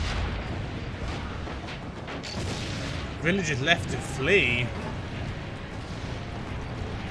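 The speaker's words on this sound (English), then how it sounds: "Get rid of these cannons, shall we?" Cannons fire in the video game Assassin's Creed Brotherhood, with heavy rumbling booms and blasts over a noisy battle backdrop, while game voices and a player talk through it.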